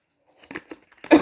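A short burst of harsh, noisy coughing from a person with a cold near the microphone, preceded by a few faint breathy sounds.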